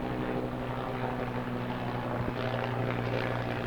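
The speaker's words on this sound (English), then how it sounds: "we got a U.S. Army helicopter above us" A U.S. Army helicopter drones overhead with a steady low rotor thrum and engine roar, loud and continuous.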